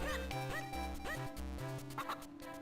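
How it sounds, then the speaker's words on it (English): Game-style dog barks from Zelda: The Minish Cap yap several times in a quick, bouncy rhythm over chiptune background music, fairly faint overall. "Bark, bark."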